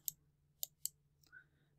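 Computer mouse clicks, three sharp, quiet ticks in quick succession over a low steady hum, with no talking.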